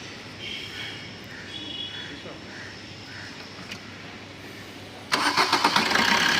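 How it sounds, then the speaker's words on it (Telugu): A Maruti Brezza engine cranks and catches on a single start at the end, a sudden loud start with a few rhythmic pulses, after a stretch of quiet idle background. "ఒకసారి ఇంజిన్ స్టార్ట్ చేస్తున్నాను"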